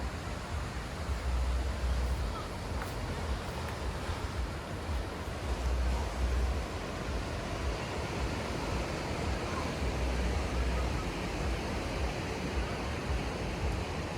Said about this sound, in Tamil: அலைகளோட சத்தம் வந்து ஒரு மெடிடேஷன் மியூசிக் இல்லையா?